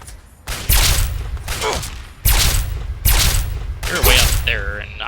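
Gunfire in the video game Fallout 3 comes as several loud, close bursts of shots spaced a second or so apart, with a short electronic warble near the end; no one talks.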